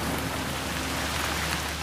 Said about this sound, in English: it has already begun to rain.